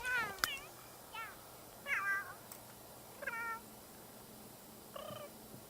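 A cat in The Sims 3 meows several times in short, thin calls spaced a second or so apart, fairly faint over a steady low background hum.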